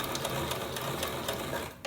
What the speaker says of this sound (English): Stitch together a part of the elastic you don't need to sew together.